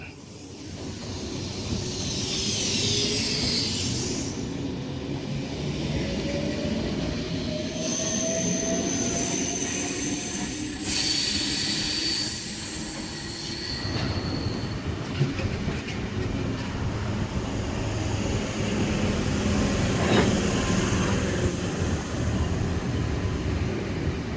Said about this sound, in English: S104 now departing platform number 1 Carlingford service